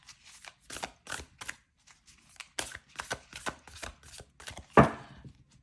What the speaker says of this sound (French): Je vais mélanger d'abord une première partie comme ceci.